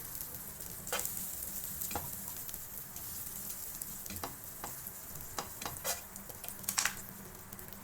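A spoonful of butter sizzling in a pan, a soft steady hiss close up with occasional faint clicks and spatters, quiet and unaccompanied by voices.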